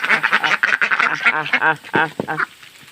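Ducks quack loudly and close by in rapid, harsh bursts that crowd together before tapering off near the end.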